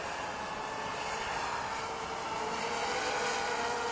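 A FeiLun FX127 drone in flight gives off a steady, high-pitched motor whine and an airy buzz, unbroken and even the whole time, with no one talking.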